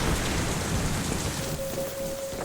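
Steady rain falls in the Crysis 3 game world, a dense hiss of drops with a low rumble beneath, continuous and fairly loud, with a faint sustained tone appearing midway.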